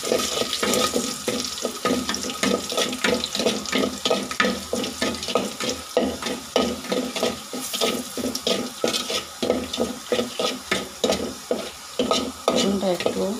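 Garlic and two or three chillies fry in hot oil for a Bengali dal tempering, a constant sizzle under a fast, repeated scraping of a spoon stirring in the pan, close and fairly loud.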